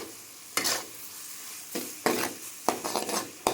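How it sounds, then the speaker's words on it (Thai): Yellow noodles stir-fried with soy seasoning in a hot pan, quiet sizzling broken by four bursts of loud scraping and tossing as the spatula turns the noodles. "ผัดให้เขาเข้ากันนะครับ ระหว่างเครื่องกับเส้น"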